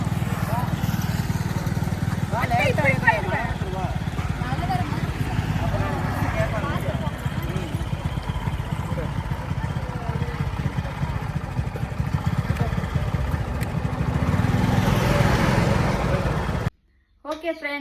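A motorbike engine runs steadily with a low, constant drone while being ridden, and people chat over it before the sound cuts off abruptly near the end.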